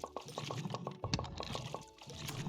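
Water being drawn in the video game Graveyard Keeper: a brief run of liquid pouring and filling, layered with rapid repeated clicky game effects. The sounds are moderately loud and close.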